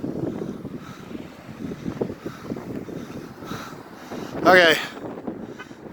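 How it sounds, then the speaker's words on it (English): Strong wind buffets the microphone during a storm as dark clouds gather, a steady low rumbling roar with gusts, and someone speaks briefly over it. "You can see how hard the wind's blowing at this point."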